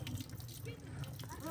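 Water running steadily from a drinking water tap at a mosque, a continuous splashing stream with faint drips, heard close up.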